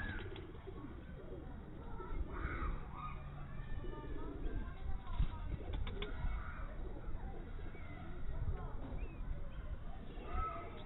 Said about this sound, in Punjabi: ਚੰਗਾ ਕਬੂਤਰ